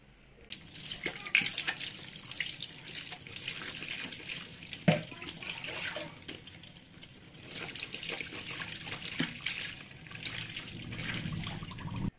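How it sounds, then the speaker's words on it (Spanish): Water runs from a tap or shower while shampoo rinses out freshly dyed, yellow-toned hair. A steady, fairly soft wash of splashing rises and falls for the whole stretch, with a few sharper splashes and knocks. "Ya va a ser hora de quitármelo con agua y champú."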